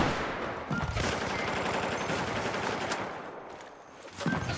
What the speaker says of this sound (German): Wer schießt denn hier andauernd?